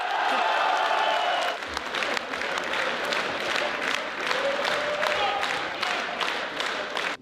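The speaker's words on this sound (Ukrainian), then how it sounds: "Таких овацій під куполом не було давно." Ukrainian parliament deputies under the dome give an ovation, a broad roar of applause and crowd noise, with distinct sharp claps rising over the din and a faint voice or tone in the background.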